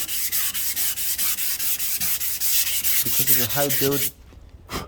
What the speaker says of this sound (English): you're sanding down any high build that was around it or that didn't fill in